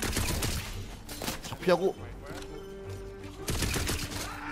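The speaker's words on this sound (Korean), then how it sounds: "이거 한 방에 네 발씩 나가는구나" Gunfire in the shooter game Tiny Tina's Wonderlands, heard as dense bursts of rapid shots at the start and end with a quieter stretch between, while a player speaks briefly over the action.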